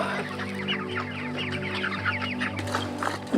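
Chickens on a poultry farm cluck steadily and close by, with several birds overlapping in a continuous busy chatter and no talking.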